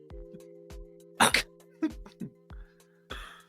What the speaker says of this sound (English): It's your cough, not mine.